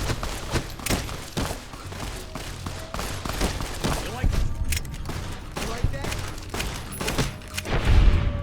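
Gunshots in Fallout New Vegas, with repeated sharp shots in an irregular rhythm mixed with thuds and impacts, loud and busy throughout.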